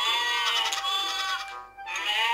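Sheep bleat in the video game Dog Simulator, a loud, wavering bleat with a short break before it resumes, close and alone with no talk.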